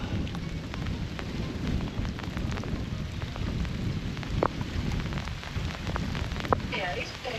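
Heavy rain pours down steadily in deep mountain forest, a dense, continuous hiss close by with a few sharper drips standing out and no talking.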